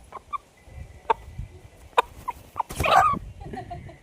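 A freshly caught country hen gives scattered short clucks and squawks, ending in a louder flustered outburst, fairly close and moderate in level, with no speech.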